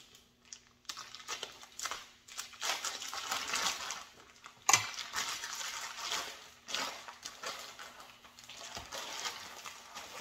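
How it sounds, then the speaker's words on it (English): Tap water runs while a brisket is rinsed in a kitchen. A soft, uneven stream of running water splashes, crinkles and sloshes for about ten seconds, with a sharp knock near the middle. "And I always rinse my brisket."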